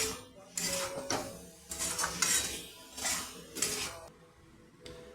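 Chilli powder being stirred into a chicken egg roll filling, with a spoon scraping and clinking against a metal bowl in a series of close, irregular bursts.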